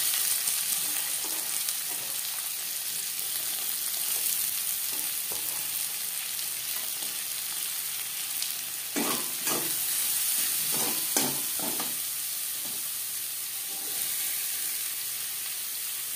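Chopped onion fries in oil left over from frying boal fish, a continuous close sizzle with a run of louder stirring scrapes and bursts in the middle.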